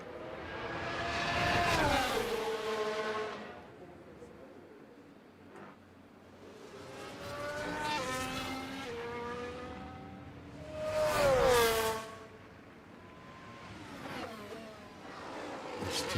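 John Player Special Lotus race car engine in F1 Manager 2013, a series of three loud revving passes that rise and fade in turn, with pitch sweeping upward on each, heard alone with no talk.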